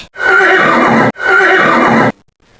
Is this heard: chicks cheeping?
no